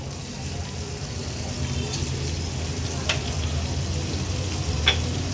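Butter sizzles on a tawa with egg masala at a Mumbai street food stall, a steady moderate frying hiss with occasional spatula taps and scrapes.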